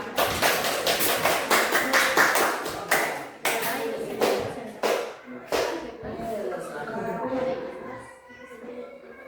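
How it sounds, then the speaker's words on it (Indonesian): A classroom of students claps for a discussion group in dense, lively applause that goes on for several seconds, then fades into scattered claps and young voices. "sekarang kita beri aplaus untuk kelompok 1 ya"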